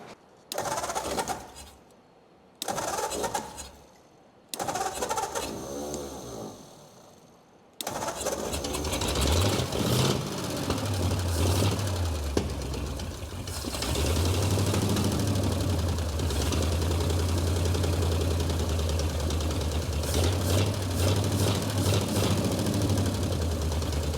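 An abandoned 1935 Ford Coupe with a flathead V8, parked for 50 years, cranks in short bursts, then catches and settles into a steady, loud, slightly uneven running idle close by.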